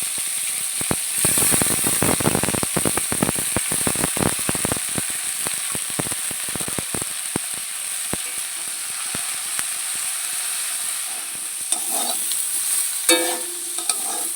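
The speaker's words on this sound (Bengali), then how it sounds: "বেগুনটাও কিন্তু একটু ভেজে নেবো এর সাথে" Eggplant pieces and steamed pumpkin-greens stalks frying in oil in a pan while being stirred, with a steady sizzle and dense, irregular scraping clicks of the spatula throughout, loud and close, with no talking.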